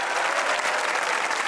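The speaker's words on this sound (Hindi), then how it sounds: "तालियां बजाइए" A studio audience at a comedy talk show claps in a dense, steady burst of applause, filling the room evenly from start to finish without a break.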